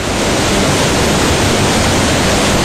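Fast-flowing mountain river rushing beneath a wooden footbridge, a steady dense roar of water with no pauses, loud and close throughout.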